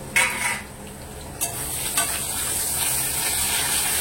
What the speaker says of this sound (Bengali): আর এখানে আলু ভাজতে দিয়েছি আমি